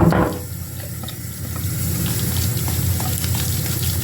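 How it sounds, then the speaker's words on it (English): A running tap pours steadily into a sink while hands are washed under it, a close, continuous hiss and splash that stays even throughout with no speech. "you're just gonna wash your hands like you would wash, you know, your hands"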